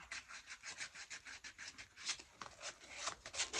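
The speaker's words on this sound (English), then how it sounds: "I'm just going to do just a little bit of sanding around" Painted wood being sanded by hand with sandpaper for a distressed finish, a quick run of close, rhythmic raspy rubbing strokes with no talk.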